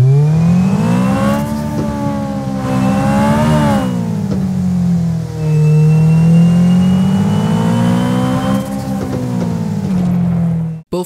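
A synthesized car engine and exhaust built with Unreal Engine 5 MetaSounds revs up and down in loud, smooth sweeps, its droning tone rising and falling twice before cutting off abruptly.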